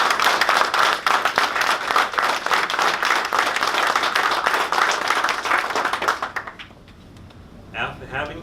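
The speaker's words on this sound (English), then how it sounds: "I'd like to give a round of applause for them." A round of applause at a TRMN 10th Fleet awards ceremony, dense and close, running steadily before cutting off, with a voice speaking briefly afterward.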